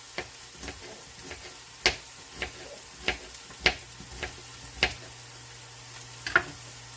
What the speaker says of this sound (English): giving my onions and mushrooms a stir real fast. Again, you just want to saute them up.